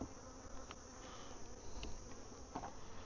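Honey bees buzz around a beehive in a bee yard, a continuous close drone with a few individual bees flying past the microphone.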